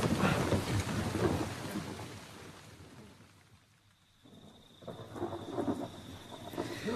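A thunderstorm with heavy rain in a radio drama, rolling thunder rumbling over a steady downpour, fading briefly and then swelling again, with no voices.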